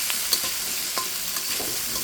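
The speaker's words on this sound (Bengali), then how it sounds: "কাঁচামরিচটা দিয়ে একটু নেড়ে ছেড়ে দিচ্ছি।" Green chilies stirred in a hot oiled pan with potatoes, a steady close sizzle of frying with a few scraping stirs over about two seconds, no voices.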